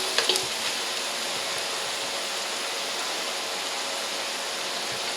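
Garlic added to onions softening in butter sizzles steadily in a pan, a constant close hiss with a few sharp crackles right at the start, no talking.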